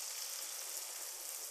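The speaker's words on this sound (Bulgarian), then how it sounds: "Към запечатаните крилца добавяме бирата" Chicken wings sizzling in a frying pan after beer is poured over them, a dense, even frying hiss with no pauses, heard up close and alone.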